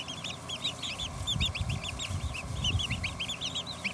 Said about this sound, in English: These are my hens.